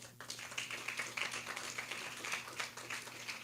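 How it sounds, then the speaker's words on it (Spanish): Applause from an audience greeting José Carlos, head of CERNAM, at a panel on subnational protected areas in Peru: steady, moderately distant clapping that fills the whole stretch without talk. "un fuerte aplauso para José Carlos"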